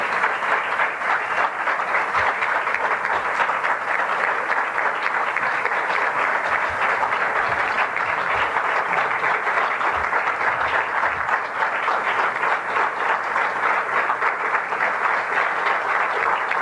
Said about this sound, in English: Please join me to show of your gratitude with a warm welcome and applause as we welcome Susan Paley to the stage.